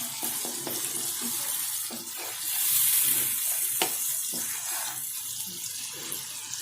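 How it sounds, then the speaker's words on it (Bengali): Onion paste sizzles and fries in a hot pan while a hilsa fish dish is being cooked, a steady crackling hiss with a few stirring scrapes and clatters, close and fairly quiet, with no talking. "পেঁয়াজ বাটা দিয়ে দিলাম"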